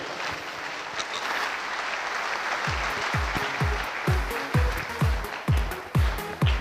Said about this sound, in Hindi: जोर तालियां होनी चाहिए